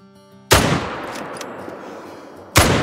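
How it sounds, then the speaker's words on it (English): Two loud rifle shots fired at a mule deer while hunting in Call of the Wild, spaced about two seconds apart, each with a sharp crack and a long fading echo. "we shot over the top, but that second shot looked pretty good to me"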